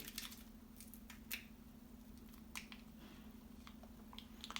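NBL Probiotic Gold powder sachet being opened close by: a few sharp crinkling rips and snips of the packet against a quiet background hum, brief and faint.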